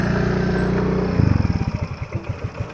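A new motorcycle engine that is giving trouble chugs roughly. It holds a steady idle at first, then falls into an uneven, sputtering run of separate loud putts that slow and stumble.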